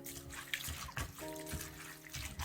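Rinse water poured off soaked sea moss, with lemon and lime, splashes and trickles in uneven bursts close by, alone with no talking.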